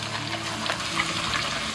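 Eel pieces deep-frying in oil over medium heat give a continuous dense crackle and sizzle with bubbling, steady and close, with no voices.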